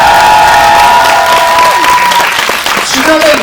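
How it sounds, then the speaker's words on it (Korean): Loud audience applause and some cheering fill a cinema during a post-screening Q&A with the cast and director, sustained clapping with a few raised voices and a sustained tone running underneath. "박수 한번 부탁드릴게요"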